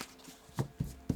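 Tarot cards being shuffled by hand at close range, three or four soft, quick riffling slaps spaced unevenly over a quiet background, with no talk.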